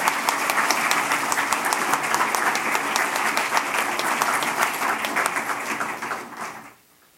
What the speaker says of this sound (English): can we take just a moment to give them a round of applause for that?